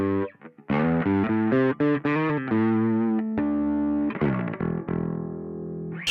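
Bass guitar through a Darkglass Anagram with Alpha Omicron overdrive, a gritty, lightly driven tone playing a busy run of quick notes, then held low notes and a few more picked phrases, loud and alone.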